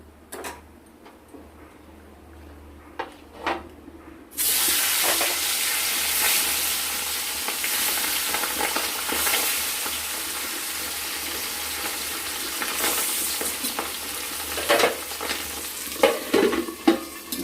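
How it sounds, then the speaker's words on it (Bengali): Fish pieces fry in hot oil, a loud steady crackling sizzle that starts abruptly and continues close up, with occasional metallic clicks of a spatula against the pan. "এইভাবে লাল লাল করে আমরা সবগুলো মাছ ভেজে তুলে নেব।"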